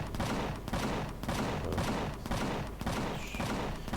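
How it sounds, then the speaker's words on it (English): Rapid bursts of gunfire in the video game Empyrion Galactic Survival, shooting at wildlife, rattle almost continuously, dense and overlapping, at moderate volume with no voices. "Shooting at wildlife."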